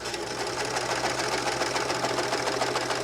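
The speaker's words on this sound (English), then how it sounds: "We're going to serge off the edge of the fabric." A Baby Lock serger trims and overlocks a fabric edge, giving a fast, even mechanical whir and rapid stitching chatter that runs steadily and close throughout.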